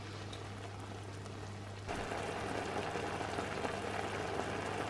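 A pot of sweet potato curry simmering on the stove, a steady bubbling hiss that steps up louder partway through and then holds evenly, with no talking over it.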